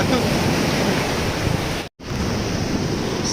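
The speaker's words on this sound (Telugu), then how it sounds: "సో ఇది బీచ్" Steady roar of ocean surf washing onto Mypadu beach near Nellore at sunset, with wind buffeting the microphone and a brief dropout midway.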